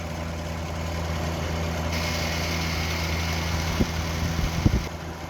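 Compressor of a vintage Eaton Viking dehumidifier running, a steady close droning hum with a low rumbling tone that shifts partway through, a few faint clicks and knocks near the end, no talking.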